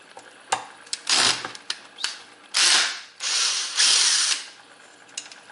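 A torque wrench ratchets in uneven clicking bursts while loosening screws on a BIQU B1 3D printer head, with sharp close clicks between longer grinding pulls.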